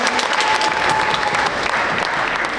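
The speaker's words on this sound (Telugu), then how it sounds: "ఒకసారి పేరెంట్స్ మీరు గట్టిగా ఈలో వేసి చప్పట్లు కొట్టి" An audience of parents at a Telugu Association of North Texas Sankranti celebration gives sustained, dense applause after a children's performance, loud and continuous throughout without talk.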